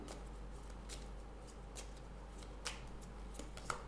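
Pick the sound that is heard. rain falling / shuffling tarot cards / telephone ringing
shuffling tarot cards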